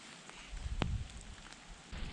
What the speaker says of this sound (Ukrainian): Дощик потрошки посилюється.